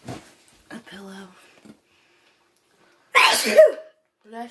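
A single loud, sharp sneeze indoors that bursts out after a stretch of quiet, preceded by a few soft spoken words and followed by the start of more talking.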